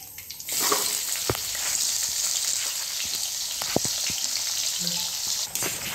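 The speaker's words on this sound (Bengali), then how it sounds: "এবার দিয়ে দেবো পেঁয়াজ কুচিটা।" Chopped onions hit hot oil already seasoned with cumin seeds and a bay leaf, bursting into a loud, steady sizzle that holds close and continuous for several seconds, with a few sharp pops and spatters.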